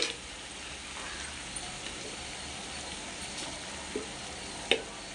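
Prawns frying in a pan as a curry cooks, giving a steady, faint broadband sizzle with a few small clicks and one sharper tap near the end, and no voices.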